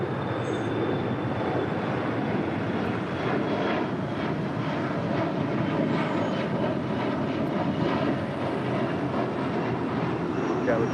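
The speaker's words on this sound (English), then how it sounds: "the Asiana A380 Super now wasting no time making his way over there to the gates of Tom Bradley" Asiana Airbus A380 taxiing at LAX, a steady, loud broadband jet engine roar holding evenly throughout with no talk over it.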